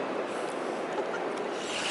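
Rushing water of the Trevi Fountain in Rome, a dense continuous splashing roar heard up close, steady and unbroken with no talk.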